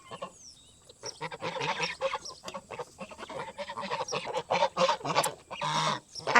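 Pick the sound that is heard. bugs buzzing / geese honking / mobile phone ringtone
geese honking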